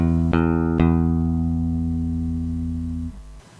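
A sampled bass instrument plucks the same low note three times in quick succession, the first two attacks sharp and close, the last sustaining with a long ringing decay before cutting off.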